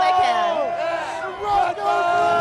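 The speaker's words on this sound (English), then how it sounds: "this crowd's going to be yelling Red Bud as loud as they can" A large motocross crowd at Red Bud yells and cheers loudly, with rising and falling shouts from many voices blending into a continuous roar.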